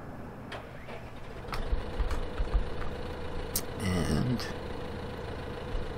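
Tractor engine in Farming Simulator 15 rumbling at a steady low idle throughout, with brief mechanical clanks and a short warbling tone partway through, under a quiet word of talk.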